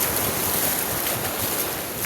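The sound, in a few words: water splashing against a boat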